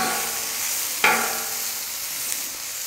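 Red onion and cabbage frying on a Camp Chef FTG600 griddle, a steady close hiss of sizzling with a brief scrape or stir near the start, no talking.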